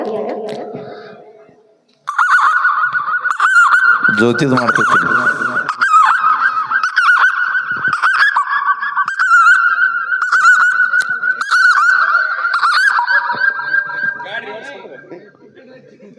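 A man imitates a car's high-pitched reverse-gear horn with his voice at a comedy mimicry show, a loud, sustained whining tone with wavering pitch after a short spoken line, ending as it fades.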